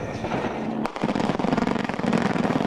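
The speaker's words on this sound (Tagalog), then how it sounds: "Ramdam sa dibdib ang lakas ng mga pagsabog ng kanyon." Heavy cannon blasts and explosions during a military assault on Marawi City, a dense run of loud, crackling booms with a sharp, strong burst near the start and rolling rumble throughout.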